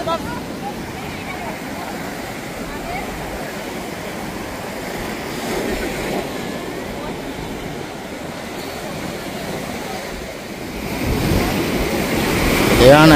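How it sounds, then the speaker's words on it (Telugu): Sea waves wash steadily at low tide on the Bambuladibba beach in Visakhapatnam, a continuous broad rushing surge with a swell near the end, under faint talk nearby. "మొత్తం నీరంతా వెనక్కి వెళ్ళిపోయి పోటు తగ్గి ఆటు మీదకి వచ్చింది"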